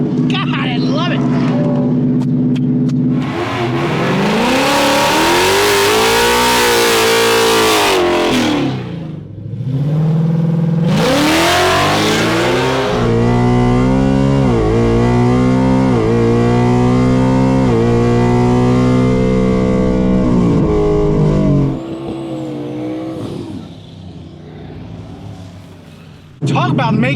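A Ford Coyote-powered Silver Bullet race car roars hard on a drag strip, its V8 climbing through repeated loud revving pulls with brief drops between gear changes before the engine fades and cuts off near the end.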